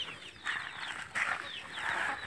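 A brood of chicks of different sizes and ages, about a hundred together, peeps steadily around a hen. Overlapping high chirps fill a soft, continuous backdrop, moderately close, with no talking.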